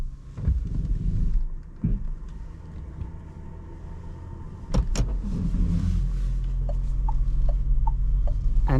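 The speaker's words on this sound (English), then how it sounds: "Let's start the car." A Renault Symbioz E-TECH Hybrid starts up and pulls away, a few clicks and thumps from the cabin followed by a low, steady drivetrain hum heard from inside, with faint chimes toward the end.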